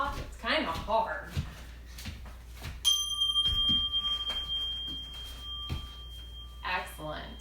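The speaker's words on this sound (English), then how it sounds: "Let's practice listening for the chime one more time." A chime signal sounds during a children's exercise session, a sustained bell-like tone holding steady for several seconds in the middle while people talk over it.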